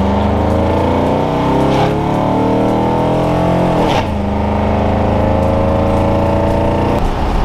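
Chevy Bel Air V8 engine breathing through a glass pack exhaust on a test drive: a loud, steady, throaty drone close by, swelling with throttle and shifting twice, with no voices.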